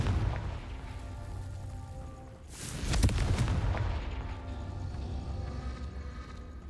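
Confringo fire spell in Hogwarts Legacy bursts with a sharp booming explosion midway, rising out of a low steady background rumble and then fading into a soft lingering tail.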